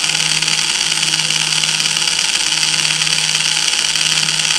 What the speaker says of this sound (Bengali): এগুলো গিয়ার ডিসি মোটর, এর মধ্যে গিয়ার আছে, এই জন্য আস্তে আস্তে ঘুরছে